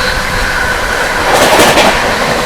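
An Amrit Bharat Express, the 22361 Patna–New Delhi service, rolls past while overtaking another train near the Yamuna river crossing, a steady close rumble of wheels on rail swelling briefly louder, without talk.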